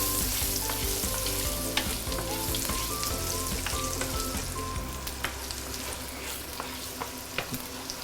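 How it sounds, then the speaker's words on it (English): Ginger sautéing in a pan for a tofu stew with minced pork, a continuous close sizzle broken by scattered clicks and scrapes of stirring. "now I'm going to saute our ginger"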